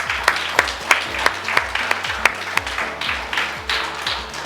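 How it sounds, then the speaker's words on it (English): Round of applause at a primary school graduation, sparse clapping with a few sharp, evenly spaced louder claps standing out over a low background hum. "So give ourselves a round of applause."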